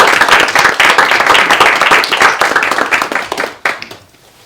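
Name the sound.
audience applause at school committee meeting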